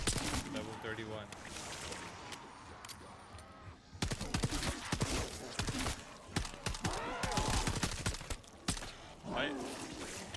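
Rapid gunfire from Call of Duty: Black Ops 7 multiplayer, dense bursts of shots with brief lulls, loud and continuous, over a talking player.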